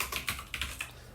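Rapid keystrokes on a computer keyboard while typing text into a Word document, an irregular burst of crisp, close clicks with no talking.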